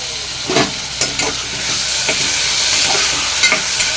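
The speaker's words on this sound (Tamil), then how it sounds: "தக்காளி போட்டு தக்காளி வதங்க உப்பு போட்டுக்கலாம்." Tomatoes and onions fry in a pan for kadalai kulambu, a steady loud sizzle with a few sharp stirring clatters of the spoon against the pan.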